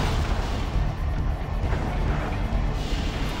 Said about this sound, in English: Those explosions are so